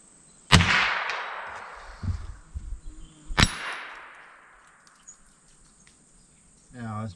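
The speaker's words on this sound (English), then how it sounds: "Hit that tiny gong, the black one, to the right of that" Small black steel gong target struck by rifle fire from a 1942 US Springfield M2, two sharp metallic clangs a few seconds apart ringing briefly over an outdoor background of insects, with a short voice at the end.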